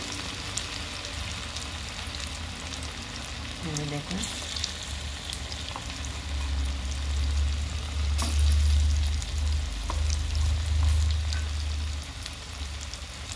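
Small bora fritters crackle and sizzle in hot oil in a little wok, a continuous frying hiss that swells louder midway, with a few sharp clinks of utensils and a brief spoken word.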